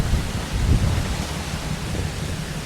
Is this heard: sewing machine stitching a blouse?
no